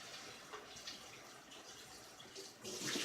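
Running water from a tap rinsing out a container that held apple peels for cider vinegar, a steady close splashing hiss that swells louder near the end.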